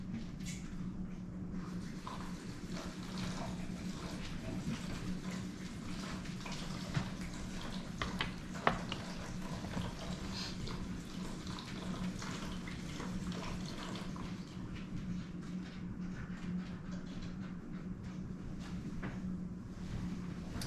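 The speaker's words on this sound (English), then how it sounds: "let me rinse this so we can do our barbecue sauce" Faint running tap water flows steadily in a kitchen while something is rinsed underneath, with a few soft clunks and drips and no talking.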